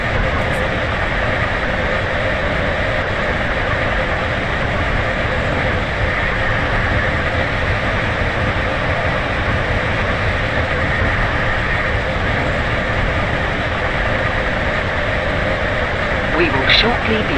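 Stepford County Railway train running in a video game, a loud steady rumble and drone of the train in motion throughout, with a faint clank near the end.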